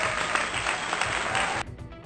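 Dense applause from a crowd, steady and loud, cutting off abruptly near the end, leaving a quieter room.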